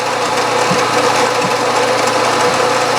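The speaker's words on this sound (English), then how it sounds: "Always start with a center drill or a starter drill." Drill press boring into a steel part with a short, stubby center drill held in the chuck, on a small steam engine build in a home machine shop: a steady, loud mechanical whir with a constant motor hum and faint periodic ticks.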